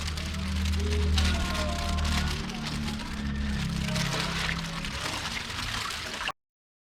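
Water and young fish poured from a bag into a backyard pond, a steady close splashing and gurgling pour that runs for about six seconds and then stops abruptly.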